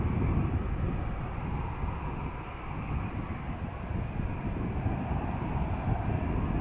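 Airbus A380 airliner arriving from Dubai at Amsterdam Schiphol toward the Kaagbaan runway 06, a broad, steady roar of jet engines with wind rumble, continuous and moderately loud, no voices.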